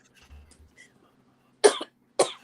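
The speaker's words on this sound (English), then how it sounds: "I was eating a hot pepper. It makes me cough." A person coughs after eating a hot pepper, two sharp separate coughs close to the microphone following a few faint quiet sounds.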